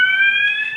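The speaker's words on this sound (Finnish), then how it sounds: "palohälytys" A fire alarm rings in a building where a panel discussion is held, giving a loud, steady, piercing electronic tone that continues without a gap.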